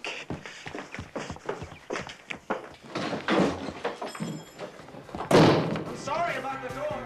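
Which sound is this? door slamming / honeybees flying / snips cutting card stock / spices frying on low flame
door slamming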